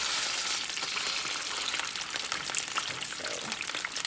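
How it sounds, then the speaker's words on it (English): Oxtails browning in a frying pan for Southern smothered oxtails give off a steady, close, fairly loud sizzle and crackle of hot oil, with small pops scattered throughout and no talking. "I just flip them over to the other side just to get them brown."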